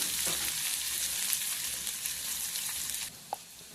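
Bitter gourd pieces frying in a pan, a steady bright sizzle that holds at an even level, then eases slightly near the end with a small clink, close and alone with no talk.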